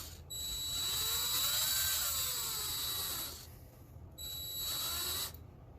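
A small drill bit bores a hole into the rear wheel post of a Hot Wheels Honda Civic Si: a thin, steady high-pitched whine runs for about three seconds, stops, then returns for a shorter second burst.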